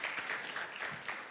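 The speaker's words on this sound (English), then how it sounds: "Yeah, round of applause." A brief burst of audience applause at a POLITICO Competitive Europe Summit, a dense, steady wash of clapping heard close for just over a second.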